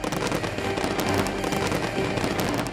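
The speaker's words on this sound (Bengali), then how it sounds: "থাইল্যান্ডেও আতশবাজি আর জমকালো আলোর প্রদর্শনীর মধ্য দিয়ে স্বাগত জানানো হয় নতুন বছরকে।" New Year fireworks over Bangkok, Thailand: a dense, continuous barrage of crackling and popping bursts, loud and unbroken throughout.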